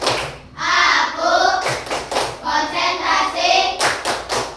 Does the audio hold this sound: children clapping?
yes